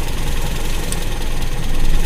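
A Toyota Kijang engine idles steadily during carburetor adjustment, a loud continuous low rumble with slight vibration and no voices.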